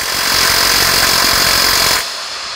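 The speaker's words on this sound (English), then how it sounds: "I find that using impact tools to remove rusty fasteners works the best over trying to use like long breaker bars and things" An impact wrench hammers steadily at a rusty fastener on the suspension of a 2004 Jeep Wrangler, a loud continuous rattling buzz lasting about two seconds before cutting off.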